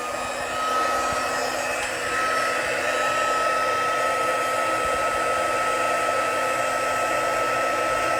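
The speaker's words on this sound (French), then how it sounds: "je mets mon pistolet chauffant." A heat gun blows steadily to puff up embossing paint at a Stampin' Up craft table, a loud continuous whoosh that starts within the first second and holds unbroken, with no talking.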